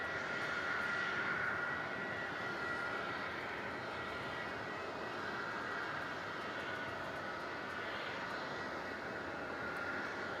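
An airliner, a Velocity flight in from Sydney, arrives at Melbourne Airport, its jet engine roar steady and sustained throughout, a broad continuous rumble with no talk over it.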